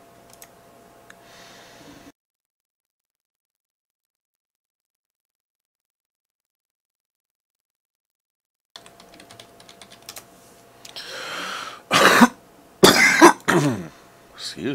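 A man coughs and clears his throat several times in a row, loud and close, after a stretch of quiet and some keyboard typing.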